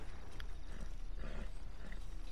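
Horse hooves clip-clop in Red Dead Redemption 2 as a tiger-striped bay Mustang moves along, a quick, even run of soft hoof beats with faint mechanical rattles and no talk.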